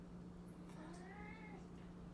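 A house cat gives a soft, drawn-out meow with a rising and falling pitch, fairly faint against a steady low hum, with no talking.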